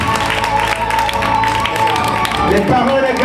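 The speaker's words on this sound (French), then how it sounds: "je vous inviterai à acclamer les parents et les applaudissements plus fort" Audience applauding and cheering for parents at a kindergarten graduation ceremony, a dense steady wash of clapping and crowd noise mixed with voices throughout.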